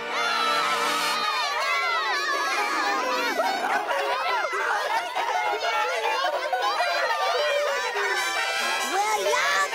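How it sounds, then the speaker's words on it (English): A crowd of children scream and shout in panic, a dense, loud, continuous chorus of overlapping high-pitched yells that fills the whole stretch. "I can't think straight between y'all screaming and that stupid record player"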